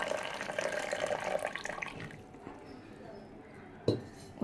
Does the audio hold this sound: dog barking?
no